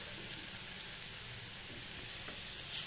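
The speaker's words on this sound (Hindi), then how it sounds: "और चलाते हुए हम इसे भूनेंगे।" Shredded cabbage and grated carrot fry in a pan while being stirred, giving a continuous even sizzle. It stays close at a moderate level, with a soft scrape near the end.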